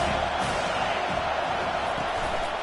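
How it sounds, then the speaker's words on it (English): Stadium crowd in a college football video game, Auburn versus Iowa, a dense continuous roar of cheering fans at a steady loud level, with no clear talk over it. "This crowd trying to make life miserable for this offense."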